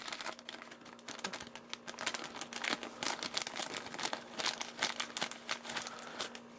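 Plastic blister packaging of a Rockman tradeable toy figure being cut open, a close, busy stream of crinkling, crackling and snipping plastic without pause and without talking.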